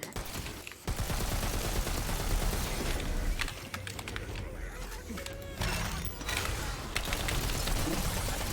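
Assault rifle gunfire in the video game Tiny Tina's Wonderlands rattles in dense, continuous bursts with brief gaps, loud and close, while a player talks over it.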